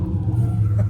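Engine of an LS-swapped car at a drift day, a steady deep rumble with slight revving, loud and close throughout a brief moment, no voices.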